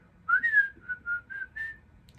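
A person whistles a melody alone, a short bright phrase of about five clear notes with a rising first note, close and fairly quiet over faint background hum.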